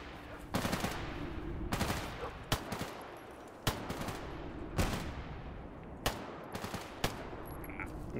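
Gunfire in the S.T.A.L.K.E.R. GAMMA video game: about eight sharp shots fire in irregular bursts at close to moderate range. Each shot leaves a short rumbling tail, and there is no talking.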